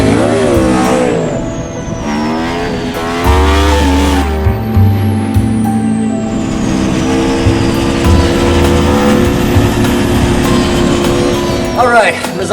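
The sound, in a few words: Aprilia RSV4 motorcycle riding at Misano track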